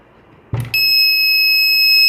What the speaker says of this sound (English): the connection will be completed and the buzzer will burn out with beeps